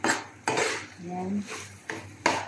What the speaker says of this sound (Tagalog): Halo-haloin natin ulit.